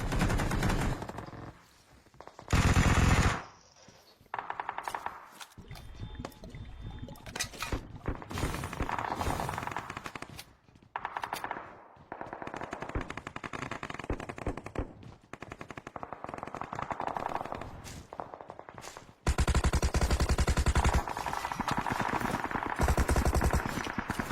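Gunfire in the mobile battle royale game PUBG Mobile, loud bursts of automatic weapon fire and single shots coming and going over about 24 seconds with short lulls between.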